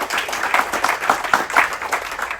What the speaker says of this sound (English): Big applause for Teresa, thank you Teresa.